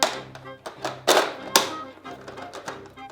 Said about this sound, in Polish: oddam teraz kilka strzałów i zobaczycie jak szybko lecą strzałki